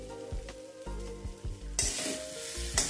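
A spice tempering for lauki dhokla sizzles in a pan with short crackling bursts, swelling into a sharper, louder hiss partway through this brief moment.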